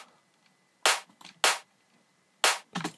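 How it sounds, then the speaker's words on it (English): Unprocessed clap sample from the Kashmir Sample Pack, several sharp bright snaps in an irregular pattern, some followed by quieter flams, playing alone with a faint hiss between hits. "Next, we have a very simple clap right here from Kashmir Sample Pack."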